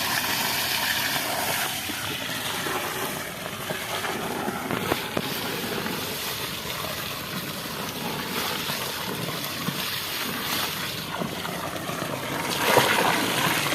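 Motor-driven pump pushes water into a container on a farm, a steady splashing, gurgling rush with scattered clatters and a louder surge near the end, heard alone without talk.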